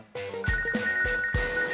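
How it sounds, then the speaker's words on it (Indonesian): A telephone rings with a repeating electronic ringtone pattern, loud and close, with bright sustained tones pulsing in short bursts. "Telepon bunyi nih."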